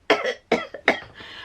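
A voice imitates a lorry driver's coughing, three harsh, forced coughs in quick succession close to the microphone, followed by a brief breathy trail.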